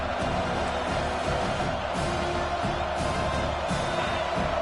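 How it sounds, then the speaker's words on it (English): Stadium crowd in College Football 25 during Georgia Tech at Miami, rising on a third-down defensive stand: a dense, constant roar of many voices with scattered whoops, loud and unbroken throughout. "Decibels rising as the crowd gets behind this defense on 3rd down."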